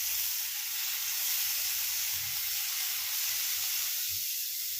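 Pieces of paneer satay sizzle as they roast in a pan, a steady loud frying hiss that runs unbroken throughout, with a few soft low knocks and shuffles from the pan beneath.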